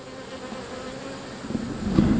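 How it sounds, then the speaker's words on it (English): Honey bees buzz close by at an open hive in a low droning hum that swells louder toward the end. "Here's some bees just cleaning each other, taking care of each other."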